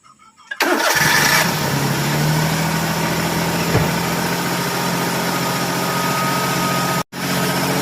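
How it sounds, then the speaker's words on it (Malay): A Perodua Kancil 850 car engine starts up and settles into a steady, loud idle while warming up, running continuously and close by with a brief cut near the end and no talking. "So yang ini kita akan panaskan engine dahulu"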